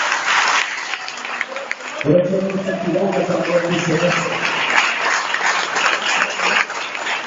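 Congregation applauding during a Spanish-language church sermon in Cunduacán, Tabasco: dense, steady clapping throughout, with the preacher's voice speaking over it.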